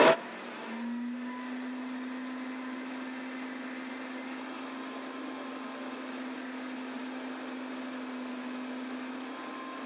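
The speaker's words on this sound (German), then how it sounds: "Jetzt hat da der Mixer ein bisschen Luft angezogen." A blender runs steadily, churning thick almond mayonnaise with water and oil and drawing in air; a loud, continuous motor whir with a low steady hum holds from just after the start to the end, with no talking.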